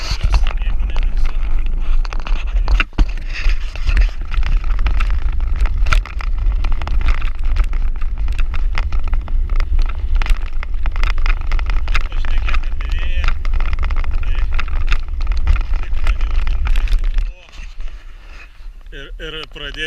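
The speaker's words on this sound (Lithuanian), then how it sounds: "vėjas pūsti belenkaip" Strong wind buffets the microphone while riding a bicycle on a countryside trail, a loud, continuous rumbling roar with gusty surges that drops away abruptly near the end.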